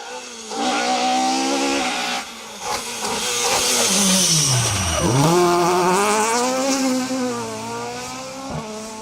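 A Toyota Starlet two-wheel-drive rally car screams through a rally stage, its engine revving hard and loud with rising and falling pitch as it shifts gears, plus a sharp dip as it brakes and slides before powering away.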